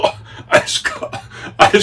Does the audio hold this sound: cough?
yes